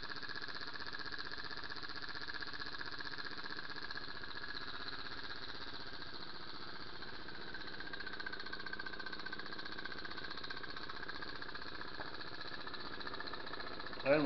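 A small shop-built steam engine running on about 10 pounds of steam pressure, giving a steady, fast mechanical chugging hum that stays even throughout, with a brief knock at the very end.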